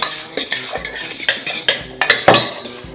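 A spoon or whisk clinks and scrapes against a bowl while matza ball batter is mixed by hand, giving an uneven series of close, clattering strokes with no talking.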